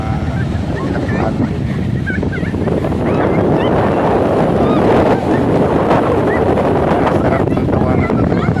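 Strong wind at a beach resort on Bantayan Island buffets the microphone in a steady, loud roar mixed with rushing surf, with voices faintly audible underneath.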